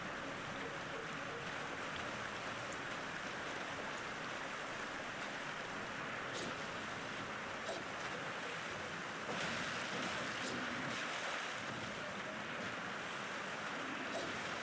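A waterfall in Siofra in Elden Ring rushes as a steady, broad wash of falling water, loud and continuous throughout with slight swells.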